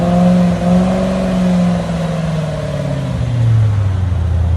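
Loud, close exhaust note from a 2003 Ford Thunderbird 3.9L V8 fitted with Borla S-Type dual exhaust, revving up and easing back down in smooth, sustained swells with a deep rumbling tone.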